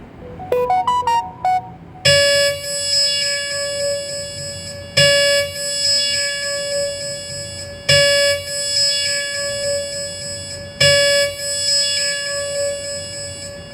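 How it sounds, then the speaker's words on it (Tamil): A TradingView price alert alarm rings out loud and clear: a short rising chime first, then four repeated sustained electronic alarm tones in a steady cycle about every three seconds, with no talk over it. "இதுதான் வந்து ட்ரேடிங் வியூ அலர்ட்னு சொல்லுவாங்க"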